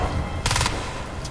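In the video game Crysis 2, a short, loud burst of rapid gunfire cracks out in the middle of a brief stretch of steady ambient game noise.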